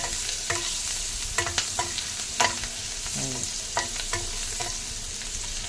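Gongura leaves fry in oil for biryani with a steady bubbling sizzle, broken by sharp clinks and scrapes of a spoon stirring against the pan at irregular moments.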